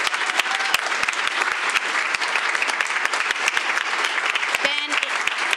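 Dense, steady applause from a crowd at a school board meeting, filling the room continuously with sharp individual claps throughout, fairly loud and close.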